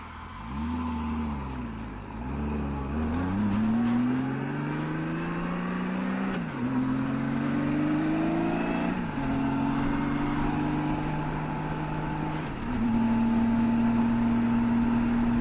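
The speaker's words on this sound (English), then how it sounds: "first we'll drive through some lit urban areas where we have some traffic" A vehicle is driven through lit urban streets with traffic, as picked up by a helmet camera, its engine humming steadily and rising in pitch through the gears, over constant wind and road noise.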